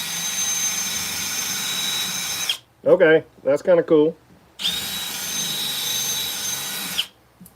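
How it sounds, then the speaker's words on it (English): A power drill with a bit works a handmade craft piece in two steady whining bursts, loud and close, separated by a short spoken remark. "Let's see if we can make it any more organic with the drill bit."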